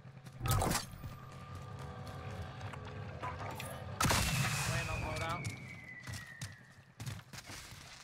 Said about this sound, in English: They're shooting to our right.